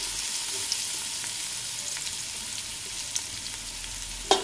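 Sliced onions fry in ghee with a steady, dense sizzle and crackle, broken by a few sharp pops and one louder clatter at the end; no one talks.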